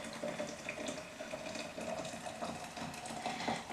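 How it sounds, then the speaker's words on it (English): Coffee poured into a stainless steel bucket, a steady splashing liquid stream that runs continuously at close range with no talking. "I pour the rest into my stainless steel bucket."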